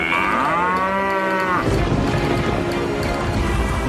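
A cow moos loudly and close, a single long drawn-out call lasting about a second and a half, followed by a continuous rough outdoor noise.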